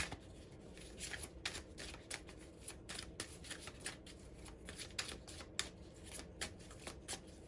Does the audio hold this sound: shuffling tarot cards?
yes